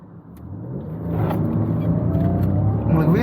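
Modified, stage 1+ tuned Maruti Suzuki Baleno RS pulling away from first gear on a highway, its engine note rising steadily and growing louder over a few seconds, heard from inside the car without talk.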